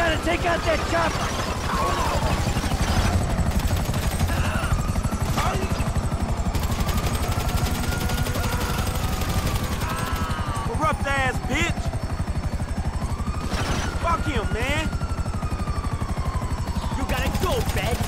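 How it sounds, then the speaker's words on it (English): A police helicopter in the video game GTA V drones steadily overhead while bursts of gunfire and scattered gunshots crack throughout, loud and close, with game characters shouting and talking over the din. "Take out that chopper!"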